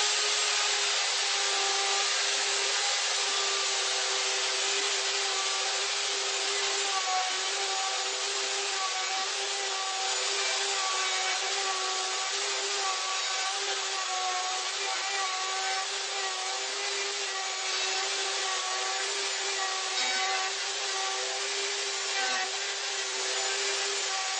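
A router cuts a mortise in oak wood, giving a loud, continuous high-pitched whine with a steady tonal hum and a harsh cutting rasp that stays even from start to finish, with no talk.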